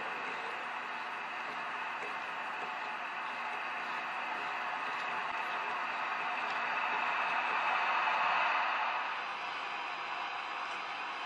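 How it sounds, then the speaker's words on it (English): Steady hiss of static from a Motorola VT-71 television under restoration, a constant broadband rush with no intelligible sound that swells slightly louder toward the end before settling back. "So you can certainly make the static louder"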